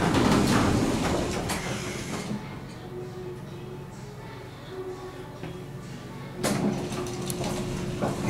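An elevator door slides shut at Bloomingdale's in the Walt Whitman Shops, a former Burlington elevator: a soft rumbling glide with a faint hum, close by, and a voice is heard briefly at the start.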